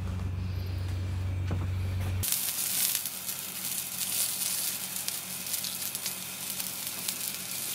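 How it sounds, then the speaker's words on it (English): Asparagus charring on a char grill gives a loud, steady sizzle that starts suddenly partway through and keeps hissing close up with no talk over it. "So we'll go over to the char grill, get a nice colour on this and a nice roast."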